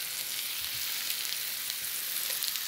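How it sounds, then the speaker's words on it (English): Tofu pieces laid face down in a hot pan, frying with a steady, bright sizzle and crackle that holds evenly throughout at close range, with no talking. "I'm just gonna put them on the pan here. Just face down."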